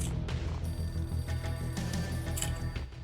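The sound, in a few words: phone ringing in video game Max Payne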